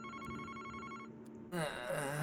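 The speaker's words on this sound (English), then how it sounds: "The phone's ringing." A telephone rings in the video game Famicom Detective Club, a steady electronic ring for about a second, followed by a shift to music.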